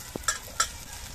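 Onions sauté in a pan with garlic paste, ginger paste and chopped tomato, with a couple of brief scraping stirs over a faint sizzle.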